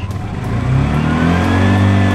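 A tuk tuk engine on a Siargao land tour revs steadily upward as the manual vehicle pulls away, a loud, close, rising drone with strong low harmonics that holds for about two seconds before cutting off.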